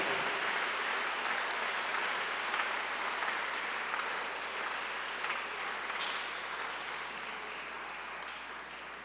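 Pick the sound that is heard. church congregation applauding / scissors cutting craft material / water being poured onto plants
church congregation applauding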